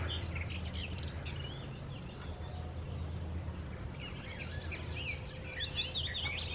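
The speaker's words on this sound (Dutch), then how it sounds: "je hoort hier de vogeltjes fluiten" Small birds chirp and twitter in quick, high phrases over a low outdoor rumble, moderately distant.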